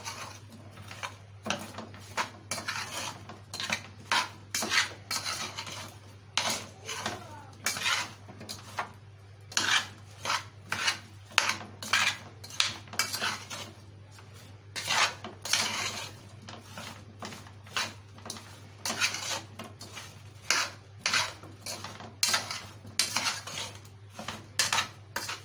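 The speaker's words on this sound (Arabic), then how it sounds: "وهبدأ بقى دلوقتي كده ان انا اقلب كل الحاجات الحلوة دي كده ببعضها اهي." A metal spoon scrapes and clanks steadily against a cooking pot while everyday ingredients are stirred together with oil, a dense run of close, sharp knocks under a constant low hum.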